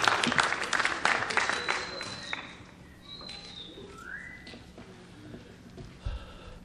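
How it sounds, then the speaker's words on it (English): An audience at a high school spring instrumental concert claps loudly for about two seconds, then the clapping quickly dies away, leaving a few scattered claps, whistles and quiet room noise. "Give him another round of applause."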